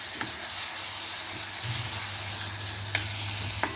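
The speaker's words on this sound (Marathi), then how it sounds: "हिरवी मिरचीचं आपण वाटण केलेलं आहे ना ते सोडणार आहोत आणि परत एखादं मिनटं छान परतून घेणार आहोत" Ground green chili paste sautéing in a pan for paneer thecha, a loud, dense sizzling hiss that holds steady and close, with a few faint clicks of stirring.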